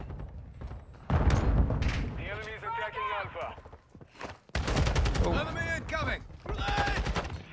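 Rapid automatic gunfire in the shooter game Modern Warfare 2, dense bursts of close, loud shots in two main volleys separated by a brief pause, with voices talking over the shooting.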